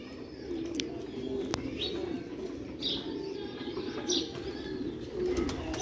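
Pigeons coo softly in a loft, low rolling calls repeating under faint chirps and occasional sharp clicks, with steady background hum and no clear talk.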